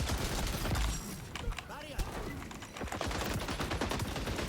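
In Call of Duty MW2, an M60 light machine gun fitted with a fast magazine fires in rapid, loud bursts, mixed with other gunfire and a player talking over the shots.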